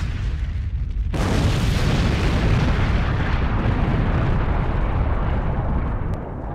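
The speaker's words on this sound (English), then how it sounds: "Now that's the explosion we wanted at the beginning of the video" A sudden loud burst erupts about a second in, then a sustained roaring, crackling blast that fills the clip before easing off at the end.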